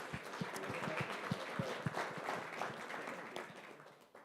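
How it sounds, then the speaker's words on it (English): Audience applause at a live Mastermind event, a dense steady patter of many hands that swells early and tapers toward the end, with a few scattered louder claps and faint voices underneath. "Round of applause, please."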